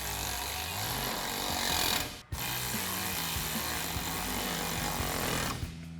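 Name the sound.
ratchet with T30 Torx socket tightening soft top bracket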